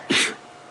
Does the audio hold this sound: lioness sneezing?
yes